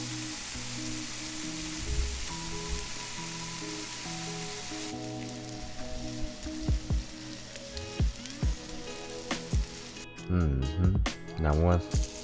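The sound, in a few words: bacon frying in a pan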